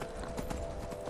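Horse hooves gallop in the video game Skyrim, a rapid, close, steady clip-clop filling the short moment with no talk.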